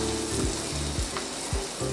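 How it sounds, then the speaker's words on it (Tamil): Cashews sizzle and fry steadily in hot ghee in a pan for carrot halwa, with a continuous close, loud crackle and a few soft stirring scrapes. "முந்திரியை நல்லா ஃப்ரை பண்ணிக்கோங்க"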